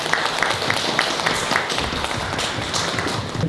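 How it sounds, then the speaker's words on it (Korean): Audience applause welcoming the director of the Seongbuk welfare center for people with disabilities at a community event, dense steady clapping from a room of people, fairly close and lasting the whole stretch with no talk. "큰 박수로 맞이해 주시기 바랍니다"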